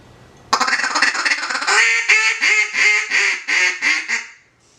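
Duck Commander Jase Pro series duck call blown close and loud, a raspy opening blast followed by a rhythmic string of about seven descending quacks that trail off.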